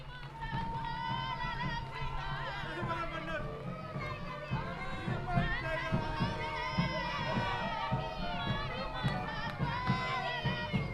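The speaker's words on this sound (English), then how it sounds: "Please give him a round of applause, please." Crowd applauding and cheering for the President of the Republic of the Gambia at the launch of a Ministry of Health clinical waste treatment centre; dense, steady clapping and shouts fill the whole stretch over a continuous roomy crowd din.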